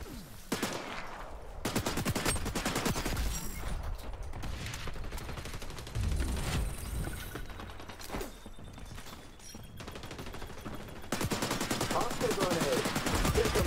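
Rapid bursts of gunfire in the first-person shooter XDefiant, with automatic fire and scattered shots crackling almost continuously and loudly throughout.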